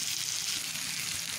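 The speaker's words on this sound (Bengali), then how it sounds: "এবার আমি এর মধ্যে খেতে করা জলপাইগুলো দিয়ে দিচ্ছি। একটু ভালোভাবে নেড়ে চেড়ে মিশিয়ে নেব।" Olives stirred into a hot frying spice paste for pickle, a dense, continuous sizzle, close and steady, with no talk.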